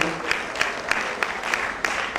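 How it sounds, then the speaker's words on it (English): Audience members clap at a national dietitians' conference, a brief burst of moderately loud applause with a few sharper individual claps standing out. "a round of applause for the chairman of today's occasion"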